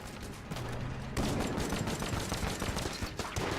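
A scattershot gun in Enter the Gungeon fires with infinite ammo in a relentless, rapid stream of close, loud shots that thicken into a dense barrage after the first second, with no talking.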